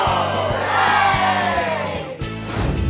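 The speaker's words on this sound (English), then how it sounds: "the whole family clapped and cheered" Cartoon pig family clapping and cheering together, a short loud burst of crowd-like whoops and shouts lasting a few seconds.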